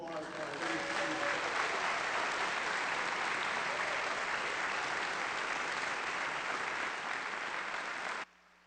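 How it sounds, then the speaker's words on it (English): Sustained audience applause for performers at a fall convocation ceremony, steady and dense for about eight seconds before cutting off abruptly. "How about another round of applause for our ladies and gentlemen?"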